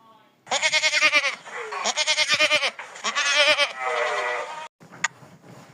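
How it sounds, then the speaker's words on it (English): A goat bleats several times in long, wavering, nasal cries, loud and close, with brief pauses and a little background noise. "Goat."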